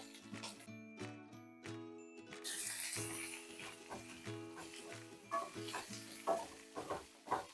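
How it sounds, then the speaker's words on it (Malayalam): Chopped green beans tossed and stirred in hot oil in a pan for a Kerala payar thoran, with a bright steady sizzle, repeated scraping stir strokes and light metallic clinks, close and fairly loud throughout. "അരിഞ്ഞ് വെച്ചിരിക്കുന്ന പയർ നമുക്ക് എണ്ണയിലേക്ക് ഇട്ട് കൊടുത്ത് നമുക്കൊന്ന് ഇളക്കിയെടുക്കാം"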